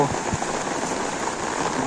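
Heavy rain pours onto a waterlogged street near Kopar station in Dombivli East, a steady, dense patter and hiss close by with a couple of faint low thuds.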